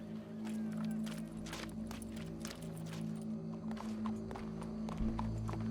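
Horse hooves clip-clop in a steady walking rhythm in Red Dead Redemption 2, fairly close, over a low constant hum, with a brief snort or shuffle near the end.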